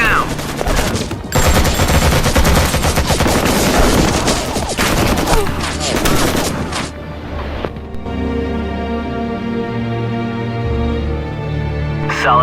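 Dense, rapid automatic gunfire and bursts from the video game Act of War: Direct Action rattle loudly for about seven seconds, then give way to a steady musical drone with occasional sharp reports.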